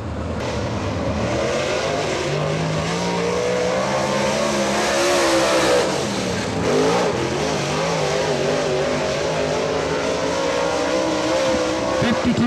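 Race car engine revving hard on a qualifying lap at Atomic Speedway, a loud continuous roar rising and falling as it passes, under a track announcer's talk.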